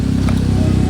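Honda Scoopy scooter engine converted from carburetor to fuel injection, idling with a smooth, steady low putter, close and loud for under a second.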